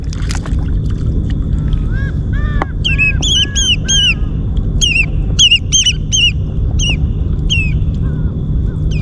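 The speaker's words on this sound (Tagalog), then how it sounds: "Ingay ng ibon na yun ha." Birds calling at night beside the water during night fishing in Abu Dhabi, UAE: a series of repeated, fairly close chirping calls over a steady low background noise.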